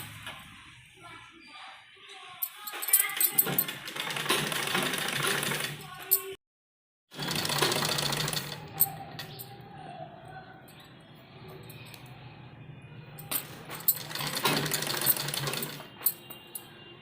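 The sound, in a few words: sewing machine stitching a trouser strip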